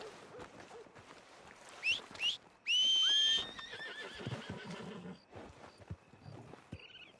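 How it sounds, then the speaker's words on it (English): In Red Dead Redemption 2, a horse whinnies loudly, rising and falling, amid soft shuffling hoof sounds and quiet ambient noise. "Are you gonna mount that new horse of yours or not?"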